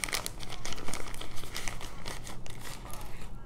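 Thick branded plastic bag from a diamond art toolkit being handled, giving continuous close crinkling and rustling with irregular louder crackles throughout, no speech.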